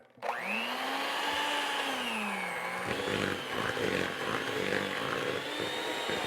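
An electric mixer creams lemon cupcake batter ingredients, a steady loud whirring drone that starts abruptly and runs on without a break, its pitch sagging slightly as the beaters work through the thick mixture.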